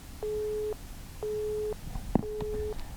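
A 1973 telephone on an Inmarsat mobile satellite terminal gives a failed-call tone: three evenly spaced half-second beeps with short gaps, moderately loud over faint hiss, a brief click between the last two.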